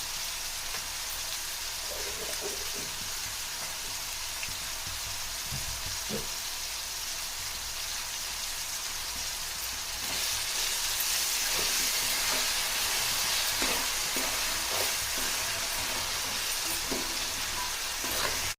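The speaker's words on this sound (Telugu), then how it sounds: "అల్లం వెల్లుల్లి పేస్ట్ 1 స్పూన్ వేసుకోవాలి." Ginger garlic paste fries in a pan for paneer biryani, a steady, dense sizzle heard up close with no talk, growing slightly louder about halfway through.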